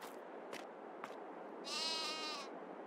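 A single sheep bleats in the farm game Farming Simulator 22, one clear wavering call rising out of a quiet background after a couple of soft thumps.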